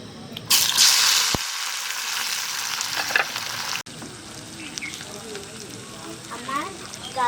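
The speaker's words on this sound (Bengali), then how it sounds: "আমার গাজর কুচি, পেঁয়াজ কুচি, টমেটো কুচি দেওয়া হয়ে গেল, এবার আমি নেড়ে নেবো।" Chopped carrot, onion and tomato hit hot oil in a pan for pasta, setting off a loud, steady sizzle that is stirred, with scraping and a sharp knock, then a softer ongoing fry.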